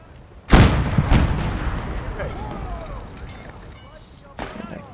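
In a video game, gunfire is aimed at the tracks of a tank. Two heavy close booms come early and ring out into a rumbling tail, and another blast follows near the end.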